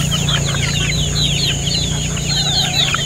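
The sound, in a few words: roosters clucking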